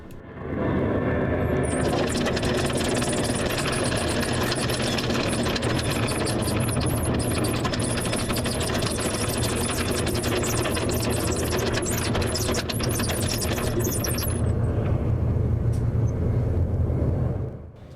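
An airplane passing low over Sidney Spit in the flight path of Victoria Airport, a loud broad continuous engine roar that fades in, holds steady for about fourteen seconds, then eases off.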